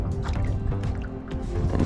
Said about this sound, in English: So what we'll do is we'll drop this into the water, let it go all the way down to where we can't see this anymore.